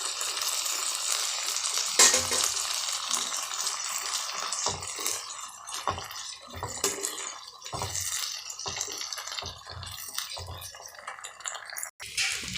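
Cooked moong dal goes into a hot pan, setting off a steady loud sizzle with scraping and stirring knocks of a spoon throughout.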